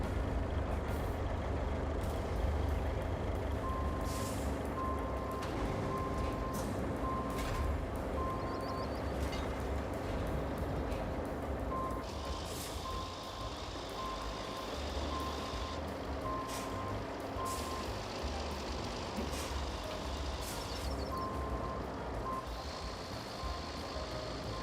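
In the RoadCraft video game, a truck reverses with steady repeating backup beeps over a continuous engine rumble, with air-brake hisses breaking in now and then, moderately loud throughout.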